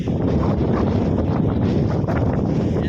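Steady evening wind buffets the microphone in a continuous low roar, loud and unbroken throughout, with faint outdoor rustle and no voices.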